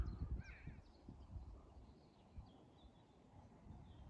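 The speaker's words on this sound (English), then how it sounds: "Listen to that, it's just bird song." Faint calls of a crow in the English countryside, a few raspy caws at a distance over quiet outdoor rumble and soft low thumps.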